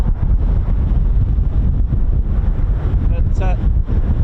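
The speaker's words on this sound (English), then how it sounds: "these that you can hear powered by 4 CFM International F-108 CF100 turbofan engines" Boeing KC-135 tanker with four CFM F108 turbofan engines passing over an airfield, a loud broadband roar heavy in the low end with buffeting wind, and a voice speaking briefly near the end.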